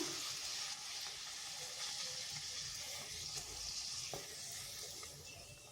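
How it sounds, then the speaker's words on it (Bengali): Puris fry in hot oil, a steady, fairly quiet sizzle with occasional crackles and spatters, fading slightly toward the end. "এইভাবে আমি সবগুলো ভেজে নিচ্ছি"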